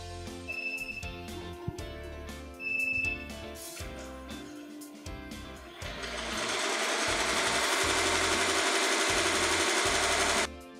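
An embroidery machine stitches a design onto a handkerchief with no-show backing, a steady rapid mechanical whirring with rhythmic needle pulses that swells louder and denser partway through and runs on continuously without talk.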